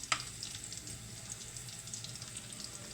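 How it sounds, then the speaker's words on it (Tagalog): Chicken feet fry in a pan, giving a constant close sizzle with light crackles and a sharp pop near the start, heard alone without talking. "Nagba-brown na rin siya. Parang na prito na rin siya."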